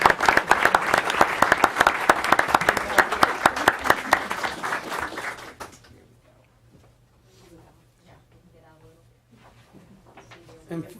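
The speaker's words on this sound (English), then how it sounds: "Let's give a big round of applause to Pilar Ayala." A crowd at a school board of education meeting claps loudly in a dense round of applause lasting about six seconds, then stops abruptly, leaving a quiet room with a low hum and soft speech.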